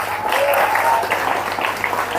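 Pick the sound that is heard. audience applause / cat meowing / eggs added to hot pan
audience applause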